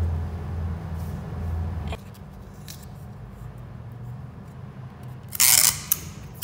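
Paper is cut with scissors during a tabletop craft activity, giving a short, fairly close burst of crisp snipping that stands out against a quiet room.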